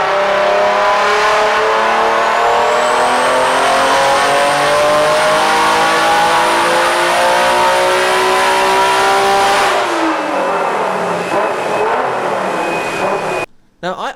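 A single-turbo Nissan 300ZX on stock internals revs hard and accelerates, its engine note climbing steadily and loud before cutting off abruptly near the end.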